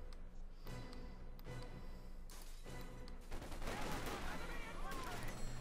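Gunfire in the Company of Heroes 2 strategy game during a 1v1 match, with repeated bursts of shots and battle noise rolling over a steady din of combat, loud and continuous throughout.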